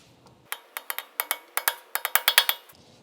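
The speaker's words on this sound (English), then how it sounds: "you need to press down the axle nut. You can use punch like this." A metal punch is struck repeatedly to press down the axle nut on a 1994 Honda Civic, giving about a dozen sharp, bright metallic taps in a quick, slightly uneven rhythm, loud and close, with quiet between strikes.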